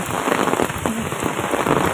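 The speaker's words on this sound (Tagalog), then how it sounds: "Oh, ulan." Steady rain pattering on a surface in Taiwan, a dense continuous hiss with scattered drops, close and even throughout.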